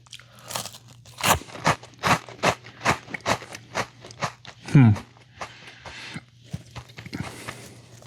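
Crunchy Carolina-style barbecue-flavored Chester's Fries being eaten close to the mic, with a steady run of sharp crunching bites and chewing, then a brief spoken voice.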